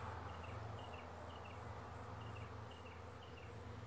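Bees buzz steadily around a wine barrel, a soft continuous droning hum with no voices, quiet and even throughout.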